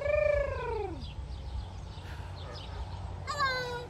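A bird at a zoo gives a pair of gliding, tonal calls, one near the start and another near the end, heard close over a steady low rumble of background noise.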